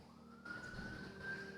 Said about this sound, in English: Sorry about the siren coming up.